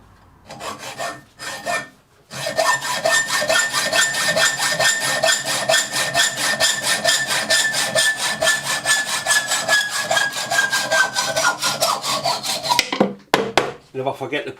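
A hacksaw cuts aluminium in loud, close, rhythmic back-and-forth strokes, starting with a few tentative pulls and then settling into a steady cutting rhythm for about ten seconds.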